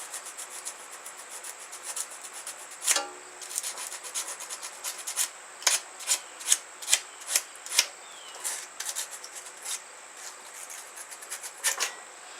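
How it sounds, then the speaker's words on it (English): Sandpaper rubbed by hand over the mounting bosses of a John Deere GT262 lawn tractor, a series of close, raspy scrubbing strokes in uneven bursts with no talking. "I'm going to clean these mounting bosses. A little bit of sandpaper."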